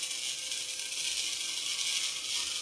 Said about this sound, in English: After doing some welding spot, the positioner will roll to the right place to do the next welding spot.